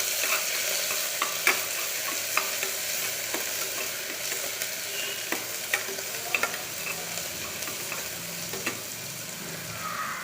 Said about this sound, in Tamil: நல்லா வணக்கி விட்டுடலாம்.